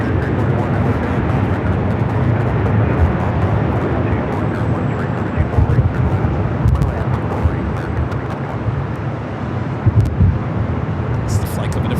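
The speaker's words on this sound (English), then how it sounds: "It's the flight coming in from Dallas Fort Worth, Texas." An airliner arriving at LAX from Dallas Fort Worth gives a continuous, loud low jet roar that holds steady throughout, with faint talk underneath.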